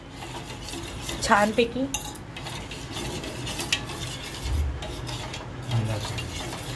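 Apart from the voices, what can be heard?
stirring sweet potato kheer with a spoon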